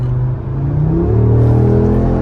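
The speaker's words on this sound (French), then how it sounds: "Tu l'as entendu le bruit du moteur?" A 2022 Audi RS3 in RS mode with its exhaust flaps open revs up loudly and closely, a deep rising engine drone climbing in pitch and holding a steady growl.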